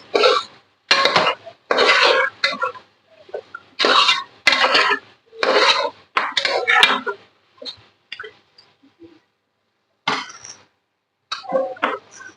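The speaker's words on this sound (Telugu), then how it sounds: "శుభ్రంగా మనం స్టీలు బ్రేషన్తో తీసుకొని బ్రష్తో శుభ్రం కడుక్కోవాలండి" Steel brush scrubbing pieces of goat leg clean, in bursts of rough rasping and rubbing strokes with short pauses between, close and fairly loud.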